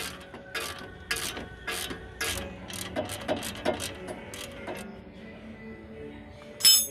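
A socket wrench ratchets in quick clicking bursts while a Toyota CV joint is removed. The clicks are close and fairly clear, with a louder metallic clink near the end.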